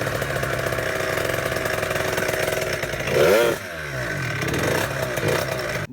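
A Booster Most 70cc scooter engine runs with a rough, buzzing idle, revs up briefly, then settles back into a steady rattling putter, loud and close.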